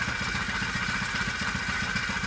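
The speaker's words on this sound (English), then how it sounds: "Second pull, she's sitting there idling." A black four-stroke engine, pull-started in cold weather around -5 degrees, idles steadily with an even low putter and a faint mechanical clatter, moderately quiet and alone.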